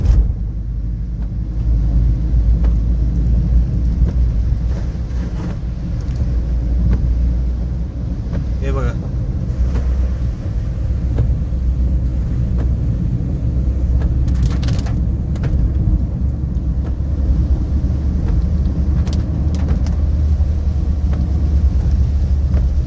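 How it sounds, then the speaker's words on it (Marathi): Heavy traffic sits jammed on the road from Thane toward Vasai, a steady low rumble of idling and creeping vehicles with wind buffeting the microphone throughout. "ठाणेवरून येणारी ट्रॅफिक आहे वसई साईडला जाणारी"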